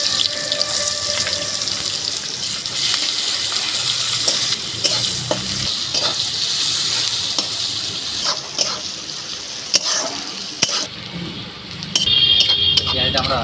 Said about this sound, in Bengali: পেঁয়াজটা আমরা লাল লাল করে ভেজে নেবো